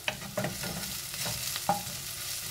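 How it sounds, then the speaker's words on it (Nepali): Spices sizzle and are stirred in hot oil, with onion, ginger, garlic, red chilli, jimbu and cumin being fried for black urad lentil dal. Scraping and frying noise continues steadily, with a few sharper clicks, and no one speaks. "हेर्नुस् त अब यसलाई चाहिँ हल्का फ्राई गर्ने यसरी नै थोरै।"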